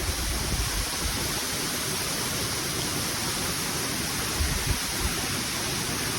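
Athiniwala waterfall at Mandaramnuwara roars as a steady, dense wash of falling water, close and loud with no break, while rain adds to the hiss.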